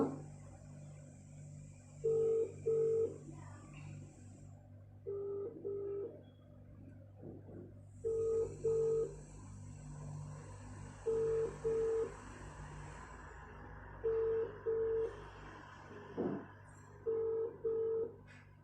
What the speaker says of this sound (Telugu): ఫస్ట్ అత్తమ్మకి చేద్దాం కాల్